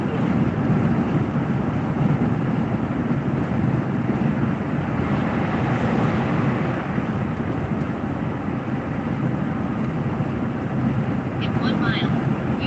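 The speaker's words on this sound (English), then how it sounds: "Truck's exhaust is loud." Loud, steady low rumble of a truck's exhaust while driving on the road, a continuous broadband drone with wind noise that holds through the whole stretch.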